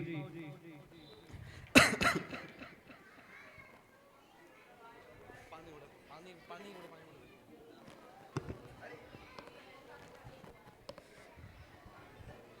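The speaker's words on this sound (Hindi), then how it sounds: "वैसे इतनी खांसी हो रही है और गला खराब करेगा मेरा" Several harsh coughs, one loud burst early and a couple of quieter ones later, mixed in with people talking nearby.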